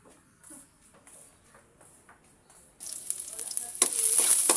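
Onion and garlic hitting hot oil in a pan: after a quiet start with small clinks, a loud crackling sizzle bursts in and keeps building, close and bright, with no talking.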